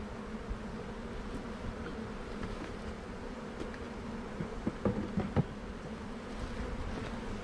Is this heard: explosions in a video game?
no